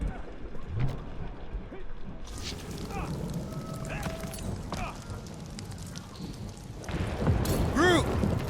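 Marvel's Guardians of the Galaxy thunderstorm: a constant rain wash with low rumbling thunder, swelling louder near the end, where a character's voice cuts in over the storm.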